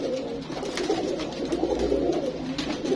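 A red-eyed pet pigeon coos in soft, low, rolling phrases that repeat close by, with a faint background hiss and no talking.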